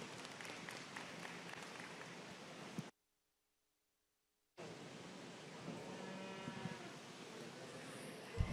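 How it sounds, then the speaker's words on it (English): Applause for exhibitors at a livestock show arena, steady crowd clapping mixed with cattle lowing nearby, cut by a silent gap of nearly two seconds before resuming. "Let's give these exhibitors a round of applause."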